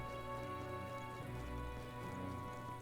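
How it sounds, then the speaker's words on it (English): Steady rain falls in the video game Metaphor: ReFantazio, a soft, even hiss of drops that continues unchanged beneath the game's humming background. "It's raining."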